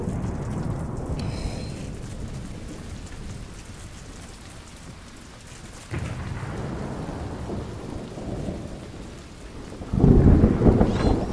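Heavy rain and thunder in a stop-motion film scene, a dense roar of downpour pattering on surfaces with deep rumbling thunder swelling partway through and a loud crack near the end, no voices.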